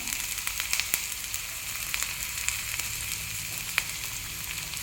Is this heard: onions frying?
yes